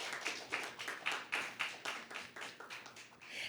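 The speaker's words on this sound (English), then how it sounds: "Team All Saints Secondary, come on, encouragement, round of applause." Applause for a school debate speaker: a soft, fairly small group claps in quick regular bursts for a few seconds, sounding modest and somewhat distant.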